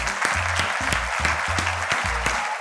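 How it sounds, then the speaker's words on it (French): Dense audience applause from a crowd, with loud rhythmic music pulsing underneath the clapping throughout. "Mesdames et messieurs, on peut s'applaudir encore une fois."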